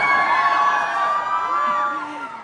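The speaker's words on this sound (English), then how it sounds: "now you can get your round of applause out that you wanted to get for Virat" A live audience roars with cheering, whoops and shouts for cricketer Virat Kohli at an indoor event, a loud, sustained crowd noise that eases slightly toward the end.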